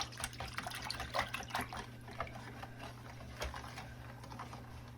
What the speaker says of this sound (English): now we're going to whisk everything together